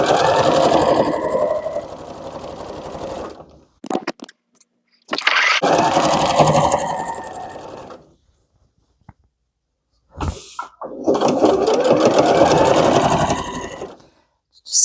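Sewing machine stitching a gardening apron made from a cut-up dress, running in steady bursts of whirring with short pauses between seams, close and loud.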